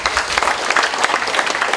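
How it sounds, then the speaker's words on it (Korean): A crowd at a founding anniversary ceremony in a large hall breaks into loud, dense applause, many hands clapping steadily and close by for the whole stretch. "오늘 창립 기념식을 위해 직접 현장에 참석하여 축하와 격려해 주신 모든 분들께 감사의 의미로 큰 박수 부탁드리겠습니다."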